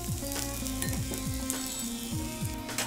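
Moong sprout tikkis sizzle steadily in a pan with a spoonful of oil, a continuous close frying hiss with occasional utensil scrapes, no voices.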